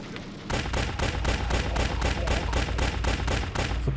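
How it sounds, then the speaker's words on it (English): A crab turret in the game Nature's Zombie Apocalypse fires a steady, evenly spaced stream of loud, punchy shots, roughly four per second, continuing without pause and without any talking. "Let's put the crab turret down here."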